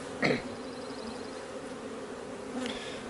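Honey bees in an open beehive make a close, constant buzzing drone, with a couple of louder buzzes as single bees pass near, and no voices.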